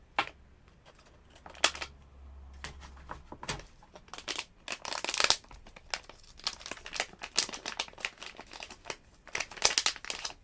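A small plastic bag holding an electronics development kit part is cut open and crumpled at close range, giving bursts of crinkling and crackling with short pauses and a low hum at the start.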